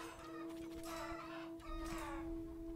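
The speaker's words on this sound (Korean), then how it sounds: "닭 있네요, 닭." Chickens cluck repeatedly in an undead horde necromancer video game, a steady run of fowl calls over a constant background game hum, with no talking.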